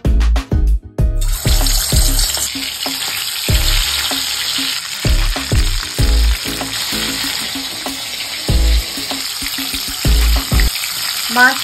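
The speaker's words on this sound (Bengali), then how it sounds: "মাছ ভাজা হচ্ছে এখন" Pieces of shol (snakehead) fish frying in a pan, a loud continuous sizzle broken by repeated clunks and scrapes of handling, with water running intermittently and no talk.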